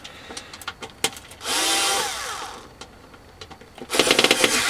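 A power screwdriver removing screws from an Xbox One console: two bursts of motor whine, the second one short, among scattered clicks and taps of the bit and screws.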